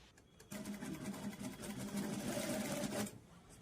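A sewing machine runs in one steady stitching burst of about two and a half seconds, with a fast, even mechanical whirr close by that starts and stops abruptly, and no talk over it.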